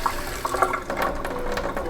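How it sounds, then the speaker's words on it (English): Warm water runs steadily from a tap at low pressure, a continuous close splashing wash with no talk over it, while paint brushes are being cleaned. "So turn my tap to warm."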